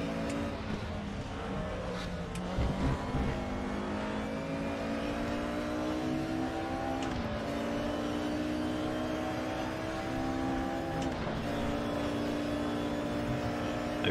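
DTM 1992 touring race cars, including an Audi V8, lapping the Nürburgring in a racing video game: a steady, loud engine drone with rising and falling gear-change sweeps, shifting abruptly around a few moments, continuous throughout.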